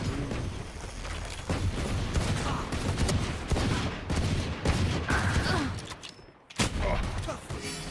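Constant loud rapid gunfire from a Valorant match at the Masters Finals, dense overlapping shots and bursts that continue with hardly a break for the whole stretch.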